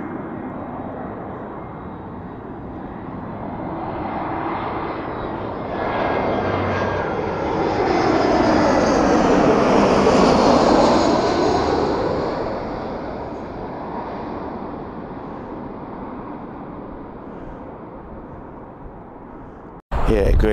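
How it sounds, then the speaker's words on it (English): Just outside Malaga Airport, a jet airliner's engine roar swells as it passes close overhead, peaking mid-way with a sweeping whine, then fades slowly into a distant rumble before a sudden cut. "I'm just outside Malaga Airport doing a bit of plane spotting."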